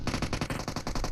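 A rapid, evenly spaced burst of automatic gunfire in PUBG Mobile, about a dozen loud, close shots fired in quick succession.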